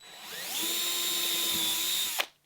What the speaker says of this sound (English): with a drill bit that's the same size diameter as our fastener, we're just going to drill through the end some distance back from the end here